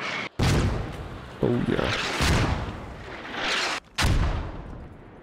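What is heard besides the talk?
mortar firing in video game Squad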